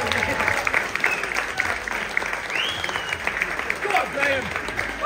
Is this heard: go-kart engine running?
no